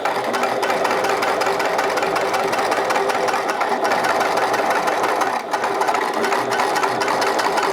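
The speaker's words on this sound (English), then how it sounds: "I'm going to stitch again with a centimeter allowance all the way around the top line on both sides." Sewing machine running steadily along the top edge of a handmade triangle shoulder bag, a close, continuous rapid mechanical whir with a brief dip near the end.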